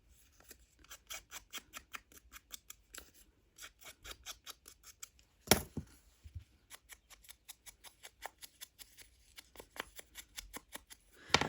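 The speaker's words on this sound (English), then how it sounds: "So I'm going to trim it and just distress it." Scissors snip paper in quick, steady runs of crisp close cuts while trimming for a junk journal, with one louder rustling thump midway and no talking.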